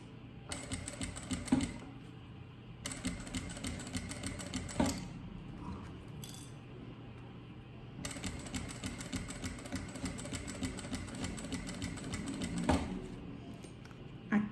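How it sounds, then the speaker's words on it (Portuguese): Sewing machine stitching bias binding along a seam on a fabric case for chocolate bars and a phone, running in steady rapid bursts with brief pauses between, close and clear. "Vocês vão olhando a costura de baixo e colocando o seu viés bem em cima e fazendo os pontos."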